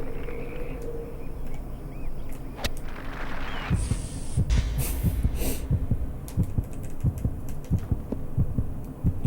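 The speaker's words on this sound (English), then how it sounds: "I don't know why that was a heartbeat." Heartbeat sound effect in the golf video game Tiger Woods PGA Tour 2004, a run of low, soft thumps repeating over ambient game background, steadily building in the middle of the clip.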